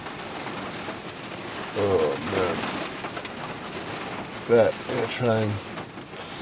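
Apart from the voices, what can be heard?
severe rain on a camper van during a storm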